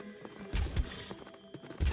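The Dark Stallion horse enemy in the Rogue Legacy video game gallops, with uneven clip-clopping hoofbeats and heavy thumps over a busy game soundscape.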